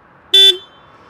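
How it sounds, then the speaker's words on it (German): Horn of a 2022 Kawasaki Versys 650 motorcycle sounds once, a short, loud, bright toot of about a fifth of a second against quiet background. "wir haben den Hupenschalter hier"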